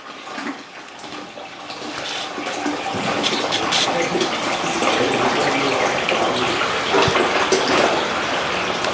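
Water from a washing machine drain on a UPS-powered machine gushes in a steady, broad hiss that starts slightly weaker and then holds loud and continuous, close by, with no talking.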